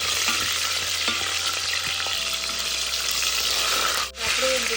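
Steady loud sizzling of a handful of garlic frying in a pan, with occasional stirring clinks and a brief pause near the end.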